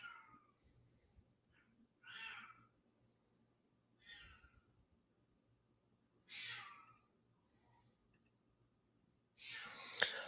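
A house cat meows five times, each short meow spaced a couple of seconds apart, heard close and fairly quiet in an otherwise still indoor room.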